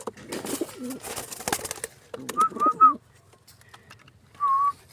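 Pigeons in a coop give a few short cooing calls, one run of three quick coos followed by a single longer coo, close and clear after some brief rustling and handling noise.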